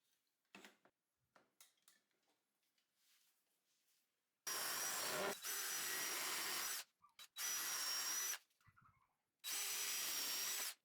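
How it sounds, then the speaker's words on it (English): A power drill with a countersink bit bores pilot holes into 2x4 wood in three loud, close bursts of whining, grinding drilling, preceded by soft handling taps and knocks. "pre-drilling with a countersink drill bit"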